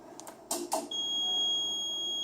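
Two or three sharp electronic chirps from an MGE UPS battery alarm, then a steady high-pitched beep that holds continuously, close and fairly loud.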